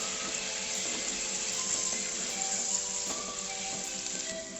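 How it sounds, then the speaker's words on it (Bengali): Water poured into a cooking pot of echor chingri, a prawn and potato curry with young jackfruit, giving a steady continuous splashing rush with a faint sizzle beneath, alone and fairly close. "আমি আর একটু জল দেবো।"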